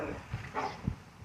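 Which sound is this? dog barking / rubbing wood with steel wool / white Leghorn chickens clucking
dog barking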